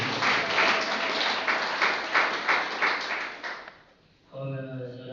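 Congregation applause at a closing Mass, a dense, steady patter of many hands clapping for several seconds, then fading away before a voice begins speaking.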